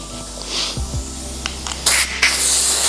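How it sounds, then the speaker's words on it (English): Two hissing bursts of a spray can on 1986 Mazda RX-7 FC interior parts before painting, loud and close, near the end after a few soft knocks and rustles. "And you need to spray some stuff."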